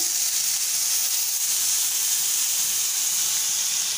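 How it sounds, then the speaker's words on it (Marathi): A constant, loud hissing sizzle comes from coriander and other ingredients frying together for a Marathi garlic chutney, an even frying noise throughout without speech. "कोथिंबीरही यात फ्राय करून घ्यायची. सगळ्या वस्तू छान भाजून घ्यायचे."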